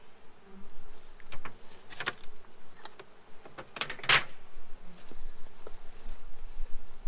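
A honeybee swarm being moved during a hive transfer, a steady, fairly close hum of many bees droning continuously, with a few brief knocks and rustles over it.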